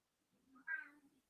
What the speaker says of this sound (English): Meow indeed.